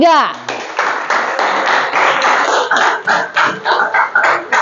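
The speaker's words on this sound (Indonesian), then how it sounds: "kasih aplaus untuk kelompok 3" A classroom of students applauding a student group, with a brief voice and ringing tone at the start followed by loud, close, rhythmic group clapping that grows more distinct and slightly sparser toward the end.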